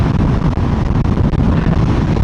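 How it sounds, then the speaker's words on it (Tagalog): Strong wind on the road from Calgary to Banff buffets the microphone with a loud, continuous roaring rumble that drowns out everything else. "sobrang lakas ang hangin dito"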